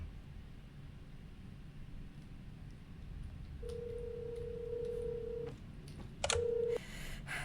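A phone rings inside a video game: a steady electronic ring tone sounds for about two seconds, stops, then returns briefly with a short beep, over a low rumbling background.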